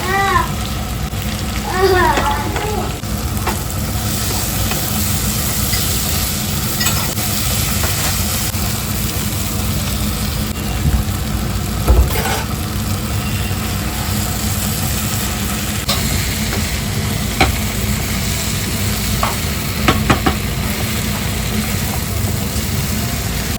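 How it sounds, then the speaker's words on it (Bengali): Unripe jackfruit frying in oil in a home kitchen, giving a steady, broad sizzling hiss throughout, with a few short clatters and a brief animal-like cry near the start. "এঁচোড়টাকে ভালো করে তেলে একটু ভেজে নিই।"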